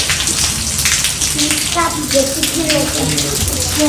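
Steady rain falls and patters on surfaces nearby, a constant wash of drops throughout, with a person talking over it.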